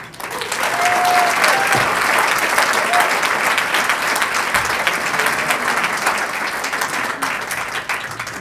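An audience gives sustained, loud applause welcoming Los Angeles County Supervisor Don Knabe at a lunch event, with clapping filling the whole stretch.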